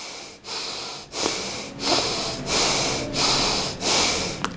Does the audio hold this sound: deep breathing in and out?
yes